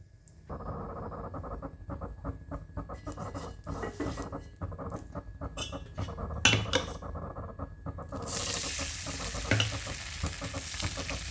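A dosa made from fine semolina and wheat flour batter cooks on a hot pan, giving a steady broadband sizzle with crackling patter and occasional louder spits, growing brighter and fuller near the end, with no voices.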